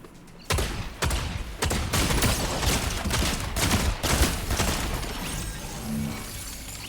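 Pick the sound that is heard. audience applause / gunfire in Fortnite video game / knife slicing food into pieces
gunfire in Fortnite video game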